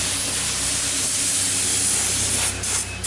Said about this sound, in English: So Anthony is laying the last coat of clear, and it looks incredible